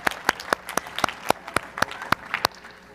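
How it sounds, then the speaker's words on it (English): Audience at a panel conversation on the fight against polio applauding, with about a dozen distinct sharp claps at an irregular rhythm, fairly close and moderately loud. "let's do another round of applause for Michael"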